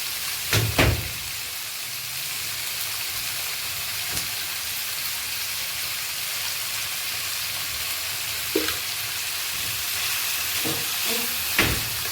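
Shallots sautéing with salt in a pan for mutton curry, a steady crackling sizzle throughout with occasional clinks and scrapes of stirring, no talk.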